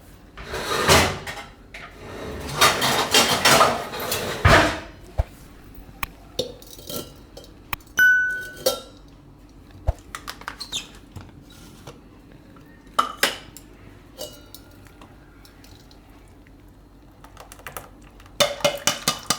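Ground grapes are strained through a metal sieve in a home kitchen, with loud clattering and scraping of utensils at first, then sparse clinks, taps and knocks, ending with another burst of rattling.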